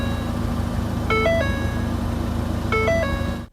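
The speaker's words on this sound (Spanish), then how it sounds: "empezando por el sonido de aviso cuando abres la puerta de un Ford" A Ford Fiesta ST open-door warning chime, a short melodic sequence of bright tones played twice over a steady idling engine hum, close and clear, cutting off at the end.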